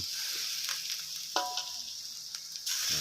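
Minced pork and holy basil being dry stir-fried in a wok for spicy Thai kaprao: a steady, close sizzle with scattered scrapes and clinks of a spatula being stirred through the meat, no talking.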